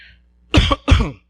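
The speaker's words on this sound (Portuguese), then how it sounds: "Me deu uma vontade de tossir." Two quick, close coughs in succession, harsh and throaty, with silence around them.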